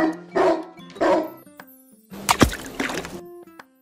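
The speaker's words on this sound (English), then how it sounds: "Dog." A toy dog gives two sharp barks, then a longer, noisier burst of barking-like sound, close and clear with no speech.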